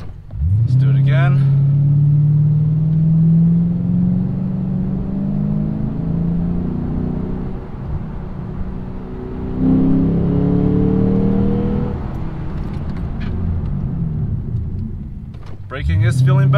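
A Lexus RC F slowing hard again and again during brake bedding, heard from inside the car as a loud engine and road drone that sags as it brakes and surges back between stops.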